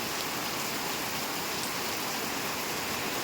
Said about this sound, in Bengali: বৃষ্টি পড়ছে আমাদের ঘুম নাই